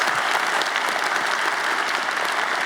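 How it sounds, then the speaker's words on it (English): A lecture audience at Caltech gives a big round of applause, a dense, even roar of many hands clapping together throughout. The sound is loud and sustained, with no voices over it. "maybe you can join me in giving them a big round of applause"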